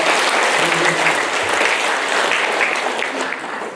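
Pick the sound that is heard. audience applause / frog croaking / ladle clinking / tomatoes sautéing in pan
audience applause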